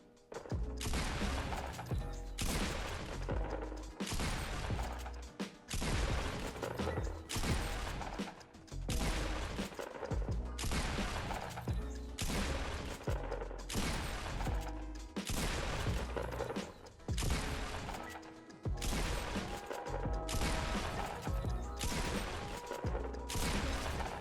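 Rapid, evenly spaced shotgun blasts in the video game Fortnite, one loud punchy shot after another in a steady rhythm over a continuous busy game soundtrack, with no talking.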